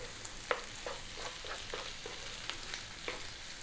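Diced potato seasoned with salt and pepper fries in a pan as a utensil stirs it, giving a quiet steady sizzle broken by soft scraping strokes at a regular pace.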